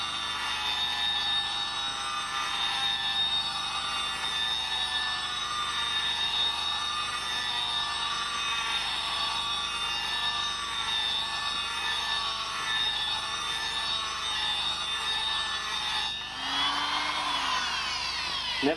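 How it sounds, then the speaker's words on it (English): A die grinder runs at high speed, cutting into a hard steel K16 cylinder head. A loud, steady high-pitched whine with layered harmonics holds for about sixteen seconds, then the pitch sweeps and drops as the tool winds down near the end. "On goes the die grinder."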